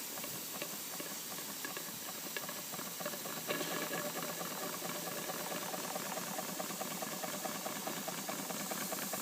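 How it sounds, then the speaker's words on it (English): A coal-fired Stuart No.9 steam engine in a steam plant gathers speed, giving a steady loud hiss and mechanical rattle that thickens partway through, with no talking. "We'll just speed the engine up a bit."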